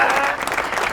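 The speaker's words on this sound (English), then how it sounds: "We need claps." An audience claps steadily for Wakanda at a gathering about African football, a dense, continuous wash of applause at close range that holds for the whole second.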